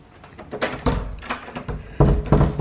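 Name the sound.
locked door being tried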